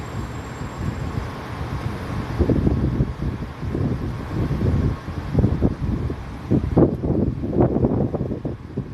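Strong wind during a storm with rain buffets the microphone in gusty low rumbles, swelling and easing repeatedly over several seconds.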